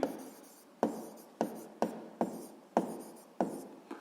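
Short scratchy strokes of handwritten notes, about seven distinct strokes at a steady, unhurried pace, close and fairly quiet with no voices.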